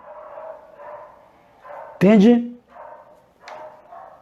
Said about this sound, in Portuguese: Estão ouvindo os cachorros aí?